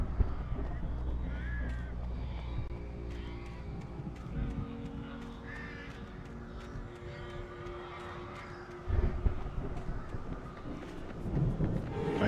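Crows in Alan Wake Remastered give scattered harsh caws over a rumbling game soundscape, with a louder thump near the end and bits of background noise around the calls.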